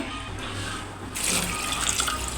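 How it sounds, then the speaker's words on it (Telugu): Water is poured over jackfruit pieces in a cooking pot, a continuous close gurgling splash that grows fuller and brighter partway through, with no talking. "ముక్కలు మునిగే వరకు అయితే వాటర్ పోసుకుందాం రెండు గ్లాసుల వరకు అయితే వాటర్ పోసుకుందాము"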